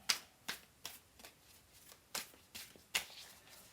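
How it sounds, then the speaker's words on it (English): A new deck of tarot cards is shuffled nearby in about seven quick, crisp riffling bursts at an uneven pace, with quiet pauses between them and no talking. "Whenever a deck is new, it's not quite, you know, it takes a few times to break it in. That's why I was shuffling it earlier"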